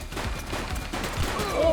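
Gunshots ring out in the police game The Precinct, a quick burst of shots over a busy game soundscape, with a voice briefly heard in the background.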